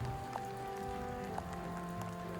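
Steady rain falls on a links golf course in Ireland, a soft continuous patter with no breaks, fairly faint and even throughout.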